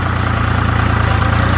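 A tractor engine driving up a hill drones loudly and steadily up close, a continuous low rumbling throb with no voices.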